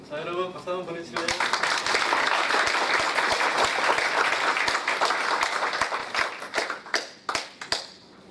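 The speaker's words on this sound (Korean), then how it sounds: "자, 여러분 박수 한번 보내주실래요?" Audience applause for a woman introduced on stage at a Korean community event, dense sustained clapping from many hands that swells after a brief spoken intro and breaks into scattered claps near the end.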